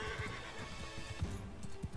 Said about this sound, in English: Oh wow, this horse is still around.